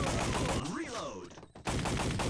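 Rapid gunfire from the arcade shooter Time Crisis on PlayStation, dense loud shots that stop briefly for a spoken game voice, then resume.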